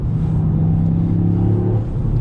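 Toyota GR Yaris engine revving in sport mode, a rumbling in-cabin drone whose pitch rises and holds with throttle, steady and fairly loud with no voices over it.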